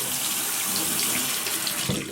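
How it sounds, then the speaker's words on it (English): Warm water runs steadily from a tap to wet a shaving brush, a close, continuous hissing splash at the sink with no talk. "I'm going to wet this brush with some warm water"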